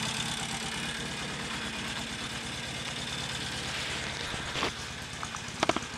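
A Norton Commando 850 motorcycle engine idles steadily with a close, even mechanical throb throughout, a few brief clicks and knocks near the end.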